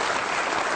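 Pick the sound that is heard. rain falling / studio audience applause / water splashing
studio audience applause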